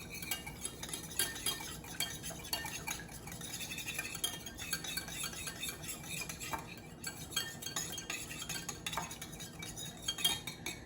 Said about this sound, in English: then just whisk it to combine